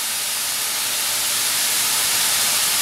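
Beef for a Philly cheesesteak sizzles loudly and steadily in a hot pan while salt, black pepper, garlic and paprika are stirred in, a continuous close hiss with no voices.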